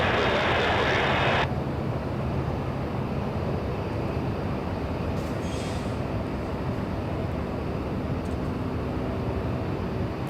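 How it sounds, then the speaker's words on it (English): An airliner takes off from a runway at Los Angeles International Airport, a broad distant roar of jet noise that holds steady, with a brighter hiss in the first second or so. "there goes the flight to Gatwick"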